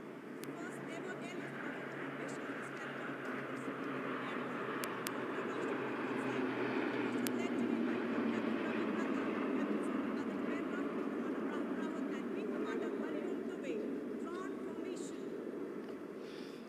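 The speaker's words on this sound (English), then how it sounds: "इसमें आगे एक C-17 और पीछे 2 C-130 400 मीटर की ऊंचाई पर राजपथ के उत्तर में वाटर चैनल के ऊपर से निकल रहे हैं।" A formation of one C-17 and two C-130 military transport aircraft passes over the Rajpath Republic Day parade at about 400 metres, giving a steady, broad engine roar that holds throughout under a commentator's voice.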